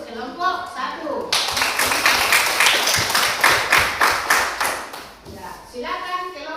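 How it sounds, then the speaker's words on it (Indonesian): A classroom group applauds a student group, steady loud clapping from many hands lasting several seconds, with a speaking voice before and after the clapping. "kita beri aplaus untuk kelompok 1"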